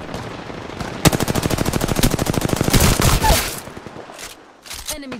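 Sustained automatic gunfire in the battle royale game Apex Legends: a long, loud burst of rapid evenly spaced shots that rattles on for about three seconds and then tails off into faint game noises.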